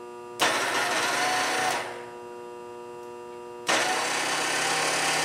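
A winch motor on a plasma cutter table kicks on abruptly with a loud, steady electric whine and hum, cuts off after about a second and a half, then starts again just as suddenly.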